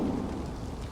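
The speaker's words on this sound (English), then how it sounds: "It's raining." Rain in the atmospheric flower-growing puzzle game Spring Falls: a steady, dense patter of falling rain over a low rumbling bed, heard alone for a brief moment.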